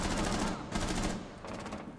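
Gunfire in Rainbow Six Siege, a dense run of rapid shots in bursts that thin out toward the end, loud and close throughout.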